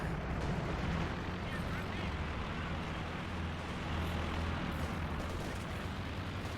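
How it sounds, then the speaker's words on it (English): Artillery fire pounding a base in the WWII strategy game Company of Heroes 2, a dense continuous rumble of blasts and explosions with a commentator talking over it. "More horrendous artillery fire on base."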